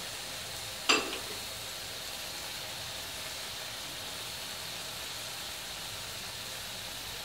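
Onion and garlic paste sizzles softly and steadily in a pan, with one sharp metallic clink of stirring near the start, and no voices over the faint, continuous frying hiss.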